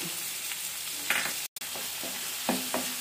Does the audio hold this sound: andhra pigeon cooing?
no